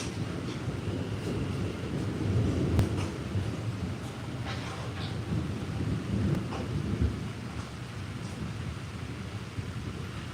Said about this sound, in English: Oh, it's a rain. I told y'all boys it's going to rain.